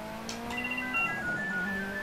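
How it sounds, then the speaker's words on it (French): A telephone rings indoors while a racing game runs in Project Cars 2, its tones stepping through a melodic ringtone pattern over a low engine drone. "Ah, le téléphone qui sonne, je m'en doutais."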